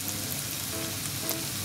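Yangnyeom chicken pieces fry in hot oil, giving a continuous, fairly faint crackling sizzle like rain on a surface, with no voices.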